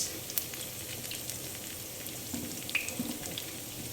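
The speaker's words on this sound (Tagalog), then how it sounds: "Fry lang po muna natin yung bawang." Garlic frying in a pan ahead of making tortang talong, a steady soft sizzle with faint crackles and small pops throughout.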